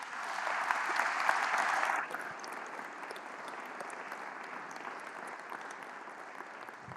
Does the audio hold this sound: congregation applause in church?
yes